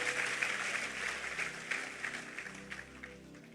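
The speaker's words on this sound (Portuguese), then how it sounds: "Vamos aplaudir a Ele" A church congregation applauds at the close of a sermon, a soft, diffuse wash of clapping heard somewhat distant over a low sustained musical drone.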